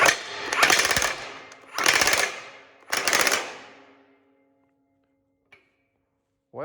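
A large impact wrench hammers at a hydraulic cylinder's packing nut in three loud, rattling bursts, each about a second long, close up. Quiet follows with a faint click near the end.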